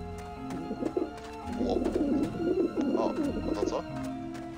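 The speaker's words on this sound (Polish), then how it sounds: "the pigeons obviously like this dish vent." Pigeons coo in a low, throaty burbling series on a rooftop in the video game Grim Fandango, a steady flock sound heard alone at moderate level.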